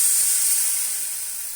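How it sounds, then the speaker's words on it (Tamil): Water poured into a hot pan of egg curry gives a steady, bright hiss like steam that slowly fades over a second or so, heard alone up close. "தேவையான அளவு தண்ணி ஊற்றிக்கிறேன்"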